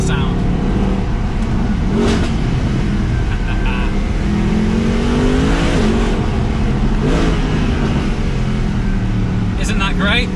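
A Mercedes SLS AMG Black Series engine revs hard and loud up close, surging and swelling through rapid gear changes with a steady, raucous roar throughout.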